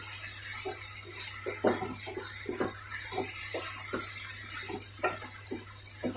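Water goes into a pan of frying potatoes and cauliflower for aloo gobhi, with repeated clinks and scrapes of a utensil against the pan over a steady low hum, fairly close and without talk.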